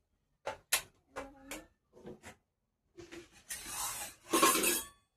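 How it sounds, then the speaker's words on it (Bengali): A wok is set down on a stove in a small village kitchen in India: a handful of close, sharp metallic knocks and clinks, followed by a longer rattling scrape of metal, with no talking. "কড়াইটা বসিয়ে দিলাম।"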